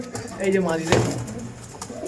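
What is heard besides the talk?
pigeon cooing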